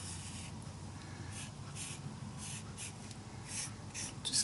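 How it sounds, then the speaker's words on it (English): A marker drawing flowers on paper, with a steady, soft scratchy rubbing of the tip in short strokes, close and quiet against a low background hum. "And then I'm just going to draw it."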